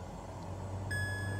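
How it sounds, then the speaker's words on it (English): A steady electronic cockpit tone sounds in the Cessna C408 in Microsoft Flight Simulator 2024 during takeoff, starting partway through and holding continuously over a constant low engine drone. "You will hear a beep."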